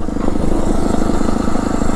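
A Phatmoto motorized bike engine drones loud and steady on a gravel road while the centrifugal clutch grabs and the rear tire scrabbles over the gravel, with no pause in the rough engine noise.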